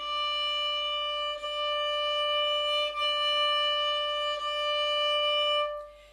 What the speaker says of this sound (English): That's the sound of the bow.